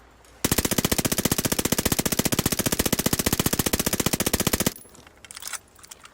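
An Armaguerra submachine gun in a video game fires one long sustained automatic burst of rapid, evenly spaced shots, loud and close, for about four seconds before stopping abruptly, with faint clatter after.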